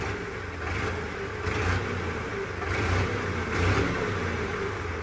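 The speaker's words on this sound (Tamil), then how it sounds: "இன்ஜின் சவுண்டு கேட்கலாம். இன்ஜின் சவுண்டு ஆக்சிலேட்டர் பண்ணி கைஸ்." A modified tractor engine revs steadily up close, with rising surges of acceleration over a continuous low engine rumble and no talk.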